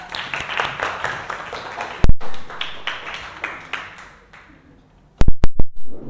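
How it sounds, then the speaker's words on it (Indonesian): A class applauds in a bout of clapping that thins out, followed after a pause by a few loud, separate claps close by. "Tepuk tangan buat Mbak Mila."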